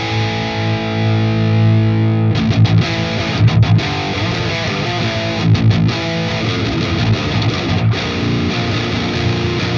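Heavily distorted high-gain electric guitar played through a Neural DSP Fortin Nameless Suite X amp plugin in high mode, giving deep modern saturation; a sustained chord rings alone, then tight chugging palm-muted riffs with sharp rhythmic stops follow.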